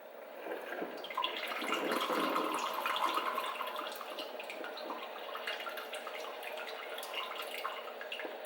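A Ninja Coffee Bar brews coffee with a soft, steady trickle and faint dripping, heard quietly and alone.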